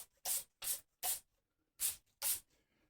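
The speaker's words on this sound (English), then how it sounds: "I'm spraying on a finish with a spray deal here" A spray can hisses onto a cockpit seat in five short bursts, each about a quarter second, close and crisp with quiet gaps between them.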